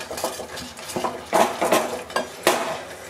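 A spoon stirs ground coconut paste into a pot of Kerala-style jackfruit erisseri, giving a run of close clinks and scrapes against the vessel, with sharper knocks now and then and no talk.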